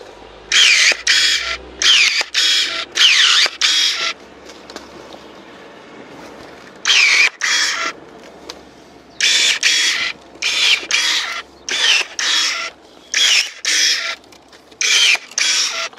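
A Soojook SJ-935 electric pruning shear cutting 25 mm branches in rapid succession, each cut a short whirring motor burst of about half a second, repeated many times at a brisk, uneven rhythm, close and loud.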